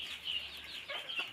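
A free-range village hen clucks softly in a home backyard coop near her nesting spot, a few short close calls over a quiet farmyard background.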